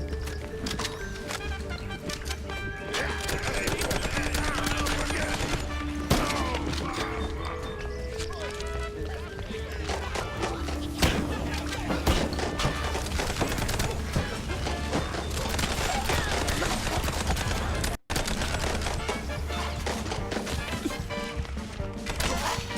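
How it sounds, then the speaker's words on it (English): Gunfire trades back and forth in a shootout in the video game Mouse P.I. For Hire, dense crashing shots and impacts over a busy layered game soundtrack for the whole stretch, with a momentary dropout near the end. "We could keep shooting for an hour and neither of us would win."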